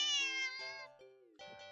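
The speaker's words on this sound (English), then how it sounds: "the cat meows sharply at you and dashes off" A cat gives a few sharp, close meows in quick succession, the first long and high, then shorter cries after a brief pause, in an otherwise quiet room.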